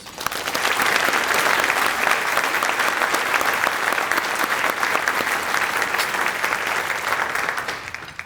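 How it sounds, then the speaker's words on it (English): A luncheon audience applauds in a steady, full round that swells quickly and holds evenly for several seconds before tapering at the end. "Please join me in giving her another round of applause."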